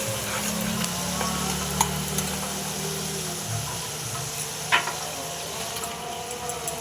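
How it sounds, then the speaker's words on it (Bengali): Turmeric stirred into a sizzling masala in a pan for chana paneer: a steady frying hiss with scattered scrapes and clicks of the spoon, close and alone. "হলুদ দিয়ে একটু নাড়াচাড়া করে নিচ্ছি"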